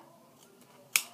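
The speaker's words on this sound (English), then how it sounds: "cut it off with my scissors." A single sharp scissor snip cuts through duct tape in quiet near the end, preceded by faint rustling.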